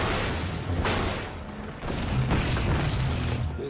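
Tank shells exploding during the Battle of the Bulge, a loud, dense, continuous rumble of booms and blasts with no clear breaks, heard close and alone.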